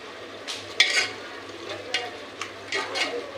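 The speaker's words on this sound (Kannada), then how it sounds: "ಇದು ಚೆನ್ನಾಗಿ ಫ್ರೈ ಆಯ್ತದೆ" Fenugreek leaves fry with a little salt in a pan, wilting for an egg biryani. A soft, steady sizzle runs underneath while a spatula scrapes and stirs in a few short, uneven bursts.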